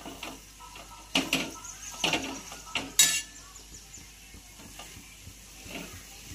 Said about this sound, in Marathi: तर इथं क्रश घालून घेऊया आणि छान याला परतून घ्यायचं आहे।